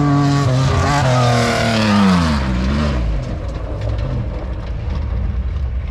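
A Class 1 off-road race car runs at speed in the VORRA El Coyote 400 desert race, its engine a loud rising and falling howl that sweeps past close by, then drops to a rough, fading drone.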